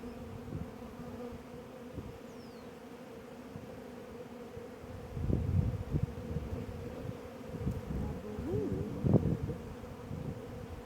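Honey bees buzz around hives in an apiary, a continuous low drone with individual bees swelling louder as they pass close by, with no talking.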